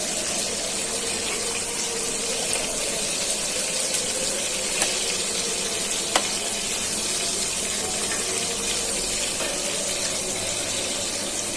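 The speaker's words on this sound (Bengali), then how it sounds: "মাছটা ভালো করে ভাজা হয়ে যাবে।" Pangas fish fries in a pan with a constant hissing sizzle that runs unbroken for a long stretch, broken only by a couple of sharp utensil clicks, with no speech.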